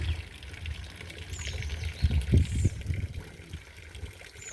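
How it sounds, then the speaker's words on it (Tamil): Fenugreek-soaked water is poured onto potted plants in a rooftop garden, a soft trickle that rises into a brief louder splash midway, with faint birdsong in the background. "வெந்தய தண்ணி ஊற்றுறது வந்து செடிக்கு நல்லா தான் இருக்குது"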